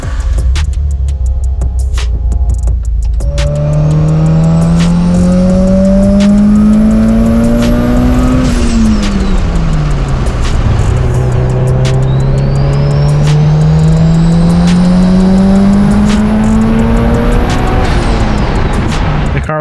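Car engine revving through two tuning pulls from 3,000 to 7,500 rpm, each a loud rising wail that climbs steadily then drops sharply, close and continuous with no talk.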